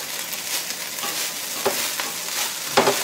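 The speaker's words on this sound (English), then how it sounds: "We're going to go ahead and stir this stuff up." Fried rice and chicken sizzle steadily in a hot pan, a constant loud hiss broken by a few scraping stirs and flips of the spatula.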